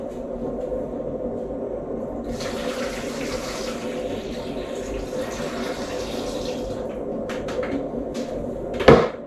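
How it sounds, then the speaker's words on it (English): Water pours steadily into a craft beer machine for several seconds over a low background hum, ending with a couple of sharp knocks. "We'll just pour it in there."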